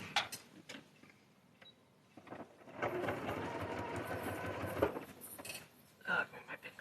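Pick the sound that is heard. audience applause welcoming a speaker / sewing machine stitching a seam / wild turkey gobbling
sewing machine stitching a seam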